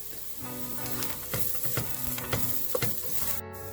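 Ingredients sautéing in a pan with grated coconut for cabbage thoran, a soft continuous sizzle broken by several spatula scrapes and taps at a loose rhythm, close and moderately quiet, no talking.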